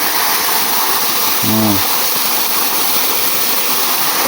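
Steady roar of a waterfall in the middle of a forest, loud and continuous, with a brief faint tonal sound partway through.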